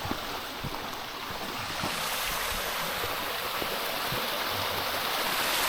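A stream flowing through a forest school area in the Bördübet woods makes a continuous broadband rush of water, steady and fairly loud with no talking.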